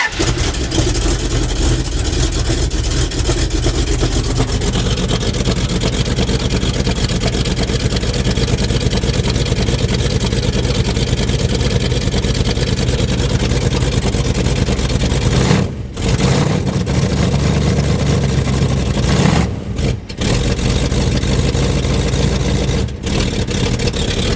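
A 1974 Dodge W100 truck engine runs steadily after a cold start, a loud continuous rumble throughout with a few brief dips where it nearly stumbles.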